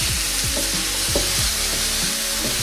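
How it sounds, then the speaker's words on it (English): Crumbled tofu fries in a pan for a vegan tofu scramble, a constant loud sizzle broken by repeated low scraping strokes of a utensil stirring it around. "I cook this about like 4 to 5 minutes until all the water kind of cooks out and evaporates"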